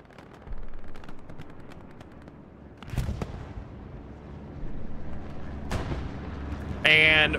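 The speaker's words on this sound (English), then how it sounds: "You actually have a Axis bombing run coming into the strong point." Axis bombing run on a strong point in Hell Let Loose, Utah Beach: a series of booming explosions and cracks among steady distant gunfire, with louder blasts near the middle and a sharp burst at the end.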